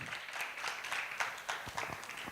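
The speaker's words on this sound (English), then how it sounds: "So a round of applause for Madam Mercy, our MD." A conference audience of women entrepreneurs in Nairobi claps briefly at moderate volume, a quick patter of many hands with a few sharper individual claps.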